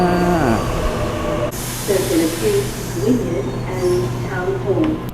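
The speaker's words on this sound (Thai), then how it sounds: "รีบครับรีบครับ รถไฟมาไฟมาแล้วจ้า" A train pulls into a station in Sydney with a loud hiss of air brakes and a steady mechanical hum, while people talk nearby.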